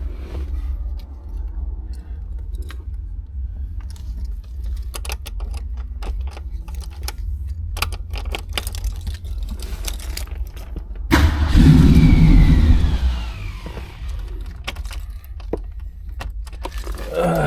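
A 1965 Ford Mustang with a carbureted engine turns over on a cold start: faint clicks and handling noises first, then the starter cranks and the engine catches with a loud rough burst before settling back to a lower idle rumble.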